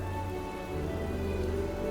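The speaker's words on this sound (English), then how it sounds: "It's only raining in this town." Steady rain falls over a town in a video game, a dense, even hiss that holds for the whole two seconds with a low rumble beneath, close and fairly loud, with no talking.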